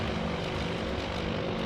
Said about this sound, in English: So these are B-17s, right?